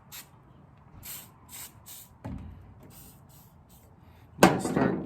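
Penetrating spray is squirted onto the tail light screws of a 1995 Nissan D21 pickup in several short hissing bursts, followed by a clunk and a louder, closer spray burst at the end.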